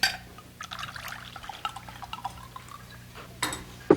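White wine is poured into a glass at a dinner gathering, a soft trickling stream with small drips and clinks, fairly close, ending in a brief glassy tap.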